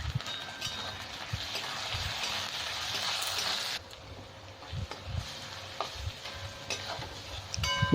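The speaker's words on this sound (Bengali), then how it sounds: "দু তিন মিনিট ভেজে নিচ্ছি আমি" Ginger-garlic paste sizzles and crackles steadily in a hot pan, with scattered soft knocks of stirring close by.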